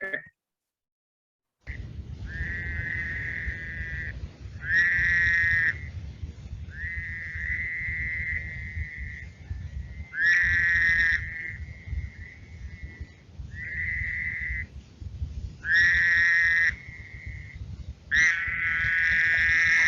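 A chorus of Fowler's toads calling together at night, overlapping nasal buzzes of varying length stacking up continuously over a low rumbling background, some calls louder and nearer than others.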